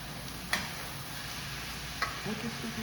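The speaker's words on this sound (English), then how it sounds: "So I'm just gonna stir fry this for a couple minutes so that the vegetables heat through" Vegetables with ginger and sesame sauce stir-fry in a demonstration kitchen, making a steady, close sizzle broken by two sharp utensil clicks against the pan.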